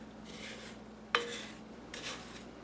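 Spoon scraping a pan while stirring clumps of melting white sugar for leche flan, a few soft rasping strokes punctuated by one sharp metallic clink, close and alone.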